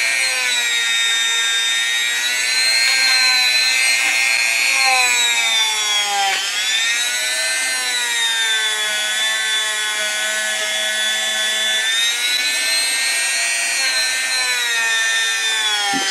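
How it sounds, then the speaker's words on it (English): A rotary tool with a hard felt polishing point works into the recesses of a hot part, giving a steady high-pitched whine with shifting tones that runs without pause and is loud and close, with no talking. "See how I'm using this hard felt polishing point to get in all the recesses"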